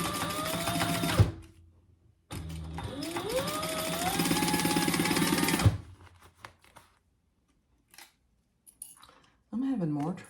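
A home sewing machine bastes laptop bag pieces in two quick, close bursts of rapid stitching with a whining motor that ramps up and down, separated by pauses with small handling clicks and a brief voice.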